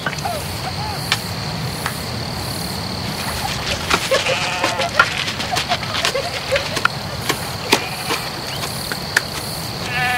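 A flock of sheep and lambs bleats in scattered calls over steady outdoor background noise, with brief voices mixed in.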